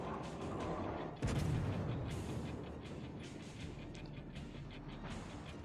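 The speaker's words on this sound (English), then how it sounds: "Gonna actually have to fire HE at him." Warship guns fire HE shells in a naval battle video game: a sudden heavy boom cuts in after a moment, then fades into a rumbling tail under continuing low battle noise.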